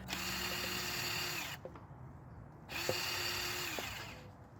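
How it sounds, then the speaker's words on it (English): A power drill whines steadily for over a second, pauses briefly with faint clunks, then starts again and keeps grinding through a pole cemented in the ground, close and fairly loud. "And then I get to drilling, and it does take a little bit of time"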